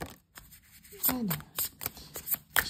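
Cards being shuffled during a card reading, a series of soft quick riffles and slaps, fairly close, with a voice speaking over it.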